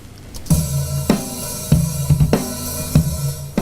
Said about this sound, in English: That's the sound of the drum kit naked